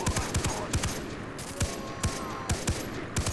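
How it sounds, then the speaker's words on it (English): Pistol gunfire in the video game Far Cry 3: a rapid run of sharp shots in quick bursts and single cracks, loud over constant game background noise. "It's just someone with a pistol."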